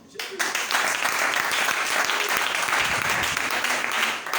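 An audience at a Bible seminar bursts into applause, a sudden onset of dense, steady clapping that fills the room for about four seconds at close range, with some voices mixed in.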